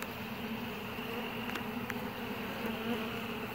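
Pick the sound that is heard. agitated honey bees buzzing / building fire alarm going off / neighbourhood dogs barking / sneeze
agitated honey bees buzzing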